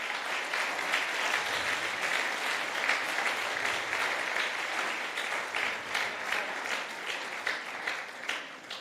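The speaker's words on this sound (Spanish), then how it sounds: "Denle un fuerte aplauso a Jesucristo si quiere." A church congregation claps for Jesus Christ, sustained dense applause that grows slightly more rhythmic and uneven toward the end, moderately loud and filling the room.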